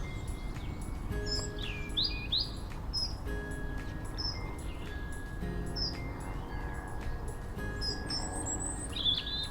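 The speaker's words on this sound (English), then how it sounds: "I was listening to the sound of the birds." Birds sing and chirp along Selby Canal, bright repeated calls coming from several directions at moderate distance, with a steady low background hum and no talking.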